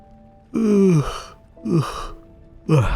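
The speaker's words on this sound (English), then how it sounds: "Big yawn." A person gives three loud vocal exhalations in a row, falling groaning breaths like a big drawn-out yawn, close up with short pauses between.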